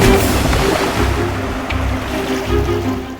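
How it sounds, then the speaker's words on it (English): Water surges and churns in a loud, continuous wash as a wave crashes over a LEGO set in a tsunami test, with rolling pulses of turbulence throughout. "The waves tossed the set around and broke it open."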